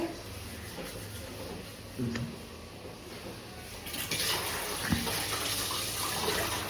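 Water running from a newly installed household tap, a steady soft gush that grows louder and fuller partway through, with a few faint knocks and clatters nearby.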